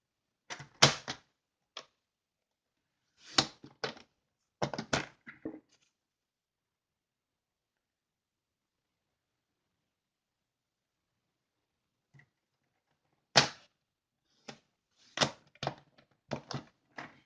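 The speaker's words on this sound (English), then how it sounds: "this is my first time trying to stack paper in the new paper cutter" A paper cutter slices through stacked designer series paper in short, crisp scraping strokes, a cluster of cuts, a long quiet pause, then another burst of quick slices, close and fairly soft.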